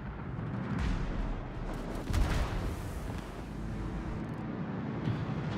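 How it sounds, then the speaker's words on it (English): Atlantico battleship firing close-range secondary guns and main guns in World of Warships, heard as deep booming reports over a constant rumbling battle bed, with a heavier blast near the middle. "Close range secondaries, here we go. And the main guns."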